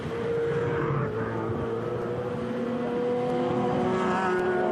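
A Manthey Porsche and other race cars battle at the 2013 Nurburgring 24 Hours, engines roaring and whining nearby in a sustained, fairly loud blend of several cars' revs.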